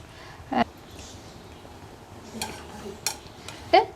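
Cucumber pachadi being stirred in a pan over full flame, with a few sharp clinks and scrapes of the spoon against the pan over a low, steady background.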